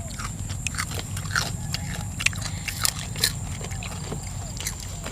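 Crunchy bites into crispy pork crackling (khaep mu), sharp repeated crunches over steady low background noise, with faint voices now and then.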